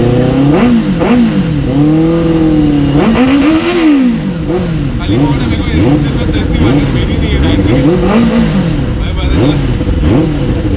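A Benelli motorcycle engine at a riders' meetup at a Kawasaki dealership is revved repeatedly up close, its pitch swooping up and down in quick throttle blips while people talk over it.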